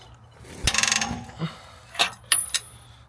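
A breaker bar works a badly seized, rusty leaf spring bolt loose on a Toyota Tacoma, giving a sharp metallic crack followed by scattered clicks and ratcheting clinks, fairly quiet and close.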